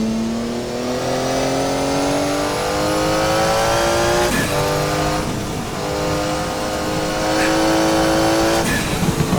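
A Porsche 956 Group C race car engine in a racing video game at Jacarepaguá howls loudly as it climbs through the revs, with two sharp upshifts breaking the steady rising tone.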